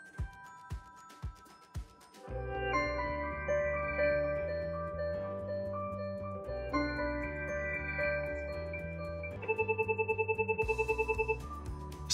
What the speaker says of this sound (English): Highlight the desired ringtone and press the Play Soft key to sample it.